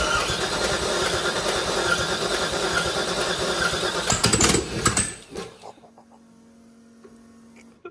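An LS V8 swapped into a Nissan Hardbody D21 pickup runs with no exhaust, a loud, raw, crackling roar that holds steady for several seconds, then cuts off abruptly, leaving a quiet ticking tail.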